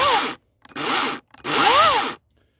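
An Einhell GE-LC 36/35 Li cordless chainsaw cutting wood under its own weight, three sustained whining cutting bursts with short silent gaps between them, close and loud with no talk.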